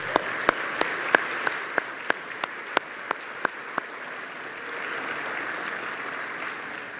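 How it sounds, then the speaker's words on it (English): An audience at a county State of the County address held in a ballroom claps: a string of distinct, evenly spaced claps stands out over a soft crowd wash, thinning out after a few seconds. "Let's welcome him back with another round of applause."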